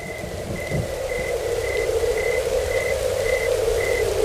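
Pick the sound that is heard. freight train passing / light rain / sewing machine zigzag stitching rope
light rain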